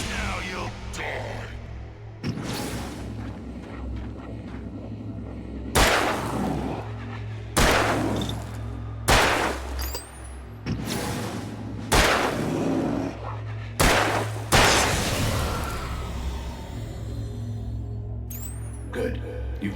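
Gunfire in the video game Alan Wake, about ten loud single shots spaced a second or two apart, each a sharp crack with a ringing tail over a low droning background.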